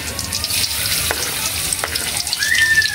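Garlic sizzles in a hot pan for chicken feet adobo, a loud, close, continuous crackle with a few sharp pops and light scraping as it is stirred.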